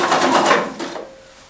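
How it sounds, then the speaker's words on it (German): A sewing machine runs a burst of elastic stitching on fabric for a ribbed cuff, loud and close, then slows and fades to a quiet hum. "dann gehe ich schon gleich an die Nähmaschine"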